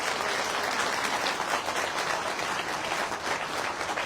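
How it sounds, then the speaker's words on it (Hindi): Dense, vigorous clapping from a large audience at a political address in Kurukshetra, Haryana, loud and continuous with no pauses and no voices over it. "हाँ, अब लगा है मुझे कि हरियाणवी स्टाइल में तालियां बज रही हैं।"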